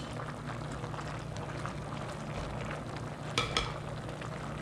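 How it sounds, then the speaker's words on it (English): Sake nabe broth with mushrooms and pork boiling on low heat in a donabe clay pot, a soft, steady bubbling hiss with one brief clatter near the end. "I still have the heat on really low, but it's boiling."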